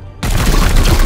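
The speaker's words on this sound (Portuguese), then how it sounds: "Toma tiro a queima-roupa." In the video game Warhammer 40,000: Chaos Gate - Daemonhunters, a sudden burst of rapid gunfire erupts after a brief quiet moment, loud and continuous, with sharp clattering shots.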